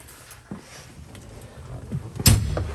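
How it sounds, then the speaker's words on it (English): A single sliding door on a 2023 Odes Junglecross X5800ST UTV rolls open with a sharp knock and rattle near the end, after a few quieter clicks and shuffles. "You just pull that, slide the door open."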